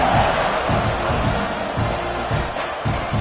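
A college football stadium crowd roars in a steady, loud wash of cheering just before the kickoff, with no break in the noise.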